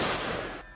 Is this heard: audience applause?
no